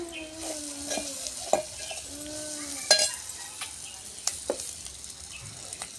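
Onion pieces sizzle steadily in a hot pan for an egg curry, a continuous frying hiss broken by several scraping, clinking stirs of a spoon against the metal, close and moderately loud, with no talking.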